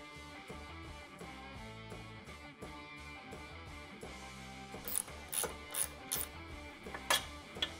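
A ratchet wrench clicks in rapid, even bursts while loosening a 7/16 nut on a Harley touring rear fender bracket, close and crisp, with a few louder metallic clanks near the end.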